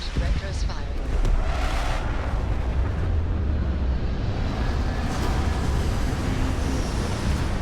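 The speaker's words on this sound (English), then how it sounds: "Landing strut primed. Retros firing." Retro rockets firing as a craft sets down in a science-fiction game, a continuous loud, rumbling roar with a hissing edge that holds steady throughout.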